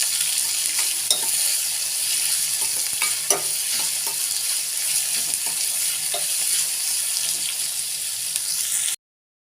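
Capsicum and onion sautéing together in a pan, a dense steady sizzle with scattered scraping stirs and light clicks, close and fairly loud, ending abruptly, no voices.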